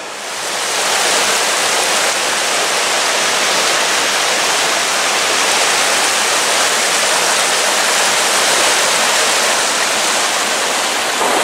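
River water rushes through Plymbridge woods, a dense, steady broadband roar of flowing current heard close and fairly loud throughout, unbroken and with no voices.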